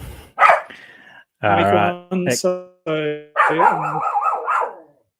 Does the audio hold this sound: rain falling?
no